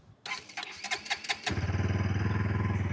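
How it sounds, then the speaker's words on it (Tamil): A 2025 Bajaj Pulsar NS200 motorcycle is cranked with a starter whir, then catches and settles into a steady, throbbing exhaust idle close up, with no speech. "இந்த வண்டியோட எக்ஸாஸ்ட் நோட் எப்படி இருக்குன்னு கேட்டுடலாமா?"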